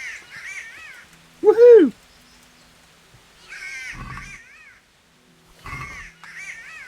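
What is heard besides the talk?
bird cawing in Kingdom Come: Deliverance video game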